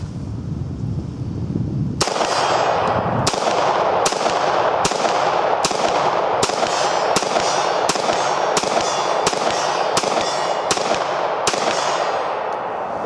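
A Beretta 96 pistol converted to fire 9mm rounds lets off a string of about a dozen sharp, loud shots. They come at a steady, unhurried pace, each ringing briefly, with no talking.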